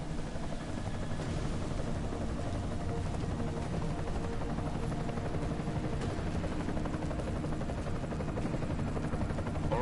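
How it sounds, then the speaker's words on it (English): An enemy helicopter in the video game Deus Ex: Mankind Divided, a steady whirring rotor drone that holds at an even level throughout with no other clear sounds. "Enemy helo sighted."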